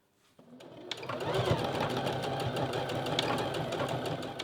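A sewing machine runs steadily, stitching a straight row across the width of a piece of fabric in one continuous whirring, rattling burst that starts after a brief pause and stays loud throughout.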